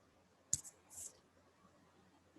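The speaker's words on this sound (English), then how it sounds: "Now let's click on run." A single computer mouse click snaps sharply, followed moments later by a softer second click-like tick, both faint and close against a quiet background.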